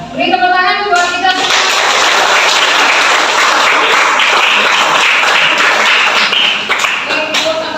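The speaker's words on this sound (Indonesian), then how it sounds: "Oke, saya beri tepuk tangan buat kita." Students in a classroom burst into dense, steady applause, many hands clapping together close by for several seconds after a brief voice at the start, tapering slightly at the end.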